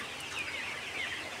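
Forty-three-day-old colour bird chickens cluck and chirp in soft, scattered calls on a rooftop before sale, with a steady hiss of background noise.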